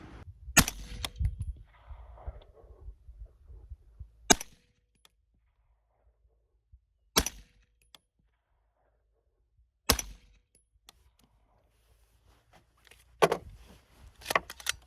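Four rifle shots from a US Air Force M4 GAU-5A fired at 100 yards, sharp loud cracks spaced a few seconds apart with quiet gaps between, plus a burst of handling noise.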